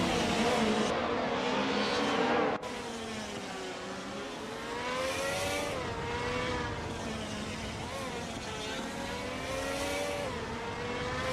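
Race cars driving in a racing video game, including a 1996 Alfa Romeo 155 TI V6 and 1994 Mercedes C180 DTM touring cars, with continuous engine drone and shifting revs as cars pass, moderately loud and steady.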